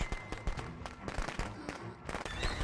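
Fireworks going off in the Friday the 13th video game, a rapid string of sharp crackling pops and bursts layered close together, with a voice talking briefly in the mix.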